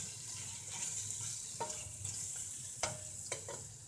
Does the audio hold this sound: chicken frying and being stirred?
yes